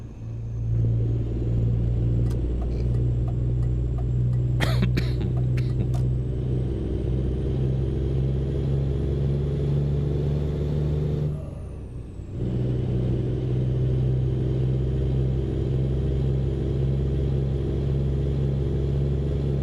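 Small truck engine with an open exhaust pipe, loud and steady with a deep idling rumble and a few sharp revs, briefly dropping off for a moment before returning close and strong.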